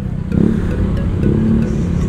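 Motorcycle engines rumble steadily nearby in traffic, heard from an e-bike heading to EDSA, a low continuous drone with a slight rise as bikes pull ahead.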